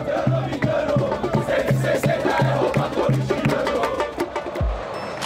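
Gaviões da Fiel supporters protest in front of the Pacaembu stadium, a loud crowd chanting in unison over a steady, repeating drum beat, with shouts and general noise layered on top.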